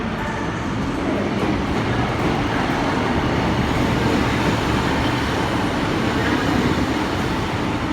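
A Class 150 diesel unit pulls into Exeter St David's station, a steady, loud rumble of engine and wheels that holds evenly throughout with no voices.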